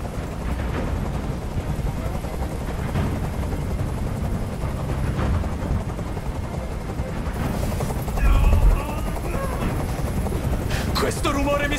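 A helicopter in Detroit: Become Human hovers close and loud, its steady rotor roar running through the whole scene, with bursts of gunfire-like sound and speech mixed over it.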